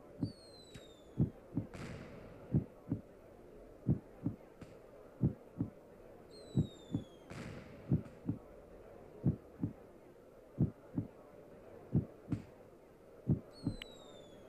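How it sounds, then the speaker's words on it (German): Heartbeat sound effect from the video game Tomodachi Life: steady, evenly spaced soft thumps repeating about every half second over a low hum, with no voices. "dieser Herzschlag da. Oh. Und er wird noch schneller."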